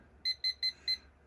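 Four short, high electronic beeps in an even rhythm from a SmartRO digital cooking thermometer alarm, crisp and close, with nothing else around them.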